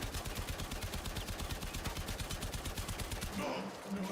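Rapid automatic gunfire in the video game Warframe, a fast even burst of shots lasting several seconds, then stopping abruptly; moderately quiet in the mix.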